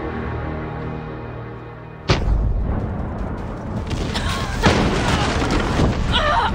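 A bomb explodes in the Far Cry 6 video game, a sudden loud boom cutting through a steady low hum, followed by crackling debris and a second burst of noise, with some voices underneath.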